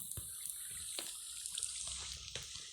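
Flowing water in Minecraft, a steady bright trickling rush with scattered drips and splashes, close and even throughout, with no talking.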